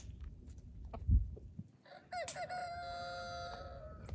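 Light Brahma roosters crowing at a backyard farm: a long, fairly distant cock-a-doodle-doo rises and holds for about two seconds over a rustling background, after a brief cluck.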